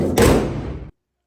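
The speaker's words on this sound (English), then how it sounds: "When I slammed the hood," A car hood slammed shut outdoors: one loud, heavy metallic thud with a short ringing decay that cuts off abruptly.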